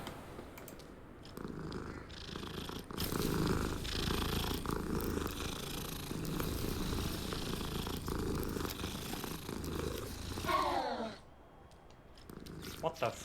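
A cat purrs in the Hogwarts Legacy video game as a steady, low rumbling drone running under game sounds for most of the stretch, then drops away near the end.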